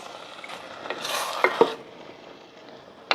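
Canned whole tomatoes sliding out of the can into a soup pot, a wet splattering whoosh peaking in the middle with a couple of sharp plops, followed by a brief clink near the end.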